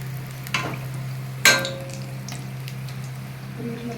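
Chili bajji fritters frying in hot oil make a continuous bubbling sizzle under a steady low hum, with two sharp utensil knocks against the pan, the second one louder.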